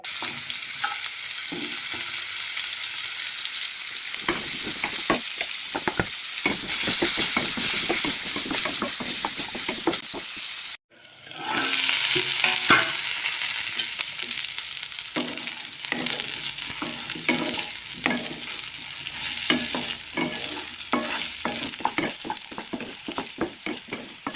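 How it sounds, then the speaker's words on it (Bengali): Potatoes with salt and turmeric fry in a wok, a steady loud sizzle broken by frequent scraping stirs, with one brief dropout midway before the frying resumes strongly. "আলুগুলো দিয়ে একটু ভাজা করে নেবো"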